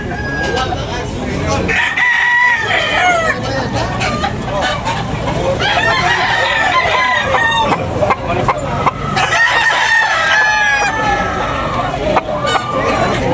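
Roosters and chickens at a bustling poultry market in Tabunok, Talisay, Cebu crow and cluck, with several overlapping calls rising over a busy crowd murmur throughout.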